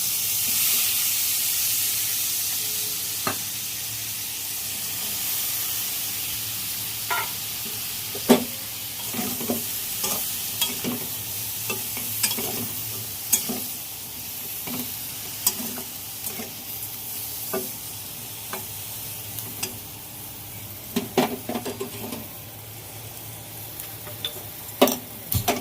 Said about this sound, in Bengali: এবার আমি আরেকটু তেল দিয়ে আরও 1 চামচ তেল দিয়ে আমি সব সবজিগুলো সব ভেজে নিচ্ছি।